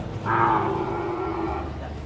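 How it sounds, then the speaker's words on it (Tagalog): A water buffalo (carabao) gives one long, low moo that swells and then trails off, heard clearly at moderate distance over faint background noise. "May mga kalabaw na dumating, no?"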